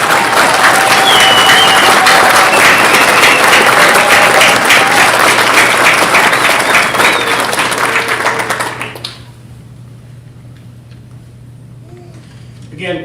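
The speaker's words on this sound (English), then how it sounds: "Let's have one more round of applause," Loud crowd applause at the Salt Lake City Police Academy graduation for Class 154, with cheering mixed in; the clapping stays strong for several seconds, then drops away to a quiet room with faint murmurs.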